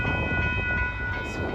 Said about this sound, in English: here's the end of this train